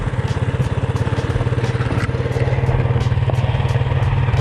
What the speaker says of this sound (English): I'm just letting the engine idle